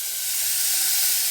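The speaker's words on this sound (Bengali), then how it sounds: "এবার জল দিয়ে দেবো" Water poured into a hot cooking pan, ahead of cooking in a pressure cooker, sends up a loud, steady steam hiss that fills the whole brief moment. There is no talking.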